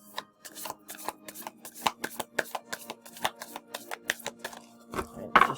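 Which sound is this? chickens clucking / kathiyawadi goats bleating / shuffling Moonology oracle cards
shuffling Moonology oracle cards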